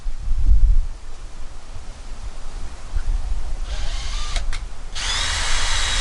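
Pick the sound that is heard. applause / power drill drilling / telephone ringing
power drill drilling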